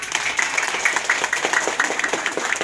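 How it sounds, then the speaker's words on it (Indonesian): An audience at a rainy campaign gathering for a Jember regent candidate claps steadily, a dense patter of many hands held at an even level throughout. "Tepuk tangan dulu dong"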